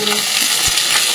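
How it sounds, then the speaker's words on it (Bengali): Loud, close sizzling of potato, pointed gourd and pumpkin frying in oil with dried chilli and panch phoron, with a single soft knock of the spatula. "সবজিগুলো একটু ভেজে নেবো। নুন ছাড়াই ভাজবো"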